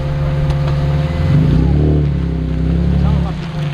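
A Nissan 350Z fitted with new coilovers drives along, its engine a steady low drone that swells slightly midway, close and loud, with a voice talking over it.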